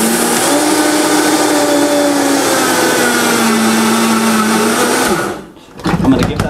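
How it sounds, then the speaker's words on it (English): A food processor whirs loudly and steadily as it grinds soaked sesame seeds, its motor pitch drifting slightly before it stops and the container rattles. "I'm still going to use the food processor with the soaked sesame, or the soaked sunflower seeds"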